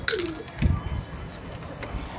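A pigeon coos softly nearby in a pigeon-catching setting, with a low throaty call mixed with light rustling and faint chirps in the background.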